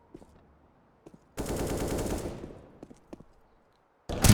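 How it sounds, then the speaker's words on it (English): Gunfire in a Counter-Strike esports match: a sustained burst of rapid automatic fire that lasts about a second and then fades, framed by single faint shots, with another loud burst starting at the end. "Headshots Umar"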